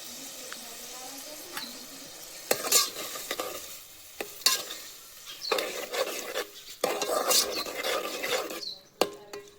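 Desi tomatoes stirred and frying in a pan for a cashew-tomato curry, with a low steady sizzle broken by repeated sharp scrapes and clacks of the spoon against the pan, close up and without talk.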